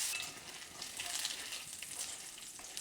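Thin slices of bacon fry in a pan, producing a steady, dense crackling sizzle that continues without a break. The sound is close and moderately loud, and no voices come through.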